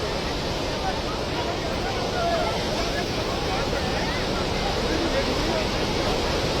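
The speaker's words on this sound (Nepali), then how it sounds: "खोला कत्रो आयो है" Floodwater from a swollen river in Nepal rushes past in a flash flood, a loud, unbroken roar of churning water filling the whole stretch, with voices shouting over it.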